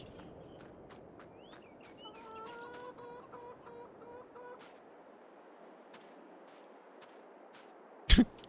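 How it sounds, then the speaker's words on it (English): Chickens in the Farming Simulator 22 video game, clucking softly in a short patterned series over quiet background noise, followed by a sharp brief thud near the end. "Chickens."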